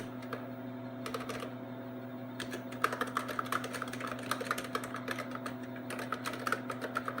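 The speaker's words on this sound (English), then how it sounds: "Listen to that mechanical keyboard. Great sound." Someone types on an early-1980s-style mechanical computer keyboard, producing rapid, clicky keystrokes in bursts with short pauses, close and clear over a steady low hum.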